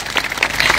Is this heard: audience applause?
yes